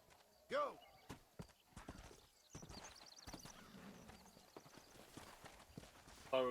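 Rhythmic clip-clop of horse hooves in Red Dead Redemption, with a whinny near the start and a person talking throughout.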